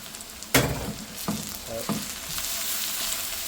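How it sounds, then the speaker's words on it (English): Mixed powder, turmeric, garam masala, salt and Kashmiri chili powder roast in oil for a Bengali chicken curry, a steady sizzle broken by a sharp spoon knock and a couple of softer stirring scrapes. "Give that all a really good stir. We're going to roast those spices for a couple of minutes."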